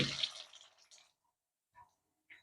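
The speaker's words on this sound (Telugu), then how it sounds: "ట్యాంక్ ఫుల్ అయ్యి మీకు ఇందులో నుంచి వాటర్ వస్తుంది" Water gushes out of a Havells Fabia 15-litre geyser (2024 model) once its tank fills, a loud splashing rush for about a second that tapers off, followed by a few faint isolated drips.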